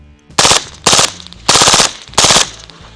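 Suppressed MP7 submachine gun fired outdoors with steel targets nearby. Four short bursts ring out in about three seconds, each a loud, dense rattle of rapid shots with gaps between them.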